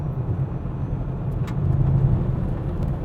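A 2023 Polestar 2 electric car accelerates steadily toward 120 km/h, giving a continuous low road and motor rumble that swells slightly midway, heard from inside the cabin with no talking.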